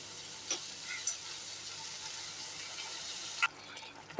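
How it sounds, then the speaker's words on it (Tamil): Green chili, ginger and garlic sauté in a covered pan, giving off a faint, steady sizzling hiss broken by a few soft clicks and pops, with no talking over it. "ஒரு 2 நிமிஷம் மூடி போட்டு நல்லா வதங்கட்டும்."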